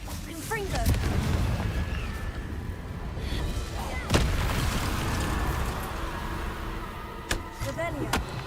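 Confringo explosive spell blasts in Hogwarts Legacy: several sharp, loud bursts land over a continuous rumbling game background, with a spoken voice briefly audible between impacts.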